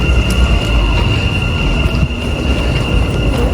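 A Dubai Metro train runs with a loud, continuous rumble and steady rail roar, a faint high whine riding over the top throughout.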